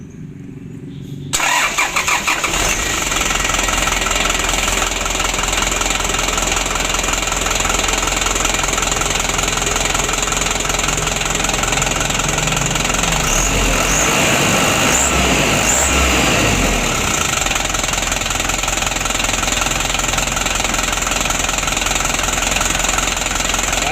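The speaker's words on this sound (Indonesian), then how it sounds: "Kita hidupkan. Nah, Mas, coba di starter" A 2016 Hino Dutro 130 HD truck diesel cranks briefly, catches and settles into a steady, loud close-up idle with a rough, knocking edge that runs on for the rest of the clip.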